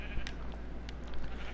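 A sheep in the video game Minecraft on PS4 edition gives a short bleat, brief and fairly close over a low steady hum, with no speech.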